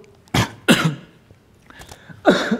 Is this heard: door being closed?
no